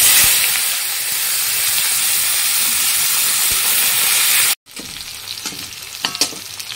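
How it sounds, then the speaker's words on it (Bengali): Whole spices (cardamom, cloves, cinnamon, cumin, bay leaf) and onion hitting hot oil in a pan, a loud close steady sizzling hiss that cuts out abruptly, then resumes quieter with a few stirring scrapes. "তো আমার তেল গরম হয়ে গেছে, আমি দেবো এখানে ছোটো এলাচ, আর দেবো লবঙ্গ, দারচিনি, তার সঙ্গে দেবো জিরা আর তেজপাতা, আর দেবো কিছুটা পেঁয়াজ।"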